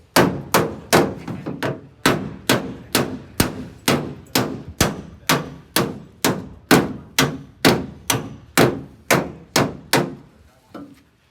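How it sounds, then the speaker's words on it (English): About twenty evenly spaced metallic hammer blows ring out on a 1959 Ford Galaxie body panel during hammer-off bodywork, each strike clanging and fading before the next. "Now we're going to do some hammer off work"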